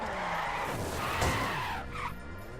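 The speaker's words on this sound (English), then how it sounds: "I like the car noises in this game" A car skids in The Crew racing video game, tires squealing over a rough engine roar that swells near the middle and then eases off, loud and close with no talk.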